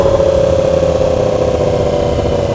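Motorcycle engine idling steadily beside a lake, a 2016 R1, with a constant, fairly loud mechanical hum and no talk over it.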